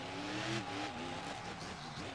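A monster truck's engine revs hard through a freestyle run at an arena show in Houston, Texas, a loud, continuous roar with shifting pitch that stays close throughout.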